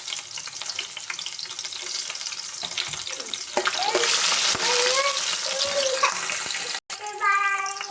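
Green chillies, thinly sliced, fry in a pan with a steady close sizzle that swells midway, joined by brief clinks and stirring noises and a short break near the end.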